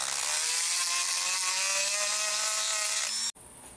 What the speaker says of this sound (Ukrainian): Перечистив гравірувалкою, полірнув наждачкою.